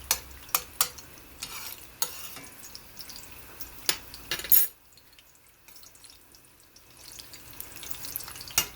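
An egg frying in a nonstick pan for huevos rancheros, a soft sizzle with sharp spatula taps and clicks in the first half, then quieter low crackling afterward.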